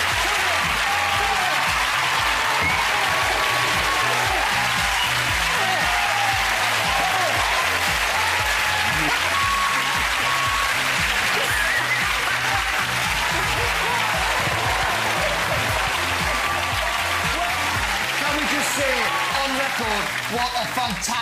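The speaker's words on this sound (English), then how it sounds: "Give him a round of applause." Studio audience on a Saturday night entertainment show breaks into sustained, dense applause with cheering, loud and continuous throughout.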